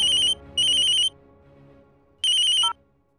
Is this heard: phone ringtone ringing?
yes